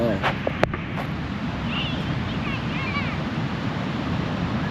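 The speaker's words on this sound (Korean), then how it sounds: "근데 파도 올라오는 거 보면 진짜 거칠긴 하다" Rough ocean waves roll in at an Australian surf spot, a steady, broad roar of surf mixed with wind buffeting the microphone, while people talk faintly over it.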